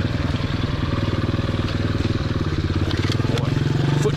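A 2015 Motoped Pro 90cc engine runs close by with a rapid, even low thumping idle and mechanical clatter throughout, a faint voice briefly under it.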